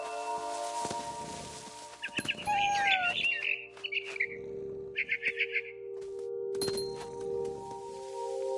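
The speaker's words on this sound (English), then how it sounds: "Then I heard chirping outside my window. It was a barn swallow going back to her nest." A barn swallow chirps in the video game What Remains of Edith Finch, quick bursts of twittering calls in two or three clusters above sustained background music and soft rustling.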